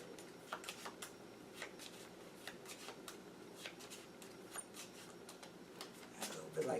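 Playing cards are shuffled and riffled in a series of soft, quick ruffling bursts, close and fairly quiet, with brief pauses between them.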